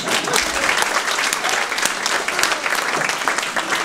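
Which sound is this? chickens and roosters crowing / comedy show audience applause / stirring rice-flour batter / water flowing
comedy show audience applause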